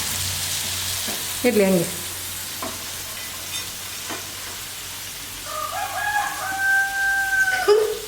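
Food frying in hot oil seasoned with chili powder and salt gives a steady broadband sizzle, with a rooster crowing clearly in the background near the end and a brief voice speaking.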